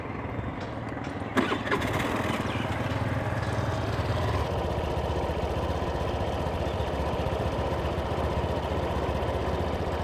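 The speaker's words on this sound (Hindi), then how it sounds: "इसके अलावा फाइनली इसका एग्जॉस्ट नोट सुन लेते हैं।" A Suzuki Avenis 125cc BS6 2023 Race Edition scooter runs with a steady, even exhaust drone close by for about ten seconds, after a brief louder burst near the start, with no speech over it.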